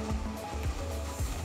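A small three-tier tabletop relaxation fountain runs on its automatic pump, giving a steady low motor hum with soft water trickling and a few faint gurgles, close by and without talk.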